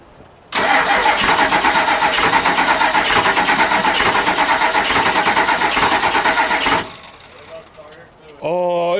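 A Ford F250 turbo diesel pickup with a 6-inch Skyjacker lift kit cranks and fires up with a loud, pulsing, rough roar that runs for about six seconds, then drops away before a voice speaks.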